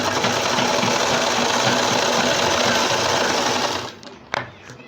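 Sewing machine stitching a churidar pajami, a loud, close, continuous whirring run for about four seconds that stops abruptly, followed by a couple of brief handling knocks.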